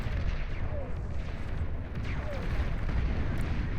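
Rockets firing from a metal extractor in the real-time strategy game Beyond All Reason, a dense, continuous barrage of booming launches and impacts with a low rumble underneath and a couple of faint whooshing streaks.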